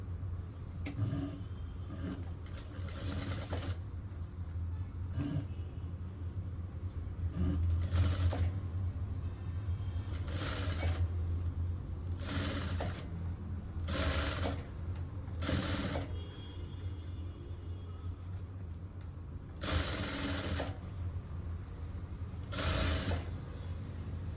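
Domestic sewing machine stitching the lining of a blouse sleeve, running in repeated short bursts with pauses and a steady low motor hum between runs, close and clear with no talking.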